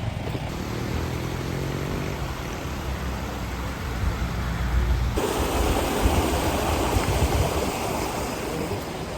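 A river in Morocco's Ourika Valley in the High Atlas rushes steadily close by. The dense, broadband flow grows louder partway through, with no voices over it.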